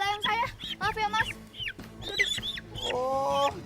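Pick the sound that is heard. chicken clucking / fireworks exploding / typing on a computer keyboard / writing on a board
chicken clucking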